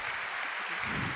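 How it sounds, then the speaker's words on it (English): A conference audience at a fireside-chat session claps in a brief, faint, steady patter of applause heard from a distance. "Let's make a round of applause for them"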